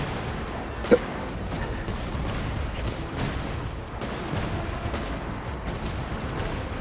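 Rapid video game gunfire with recoil rattles in a dense, continuous barrage, loud and steady throughout, with one sharper crack standing out early.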